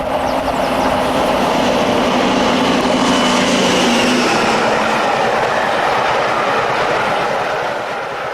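The Pathfinder charter railtour to Scarborough roars past in April 2002: a loud, steady rush of carriages and wheel clatter that holds for several seconds before easing slightly at the end, with no voices.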